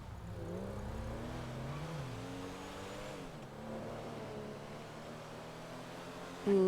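A video game car with weak brakes drives along, its engine droning steadily and rising and falling in pitch with throttle changes, loud and close, with a sharp tone cutting in at the very end.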